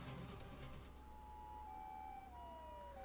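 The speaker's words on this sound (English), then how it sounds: "I could hear sirens!" Police sirens in the video game Chaos;Child wail faintly from a distance, rising and falling tones emerging midway and continuing under a low background rumble after some brief rustling at the start.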